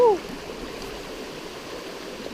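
Steady flowing stream water from a kayak on a river while a fish is released, a continuous mid-level rushing and trickling wash with a brief higher squeak at the very start.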